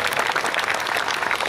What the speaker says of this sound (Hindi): एक बार तालियां बजा के आप बताएं कि आप लोगों को पहुंची